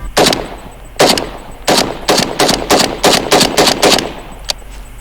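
Rapid 7.62x39 rifle gunshots fired outdoors, about ten loud sharp reports in quick uneven succession, some nearly back to back, then a final isolated crack after a short pause.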